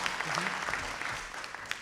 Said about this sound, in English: I was about to ask for an applause